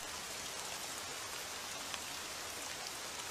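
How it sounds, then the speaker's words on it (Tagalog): Steady rain falling in a Tagalog-dubbed Doraemon animated film, a dense even hiss of drops on surfaces, close and constant, with no voices. "Umuulan naman."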